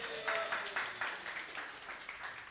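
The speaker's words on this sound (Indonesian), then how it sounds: "Tepuk tangannya Maria." A church congregation applauds at a worship service, a burst of clapping with rhythmic pulses that gradually fades, with a faint voice underneath.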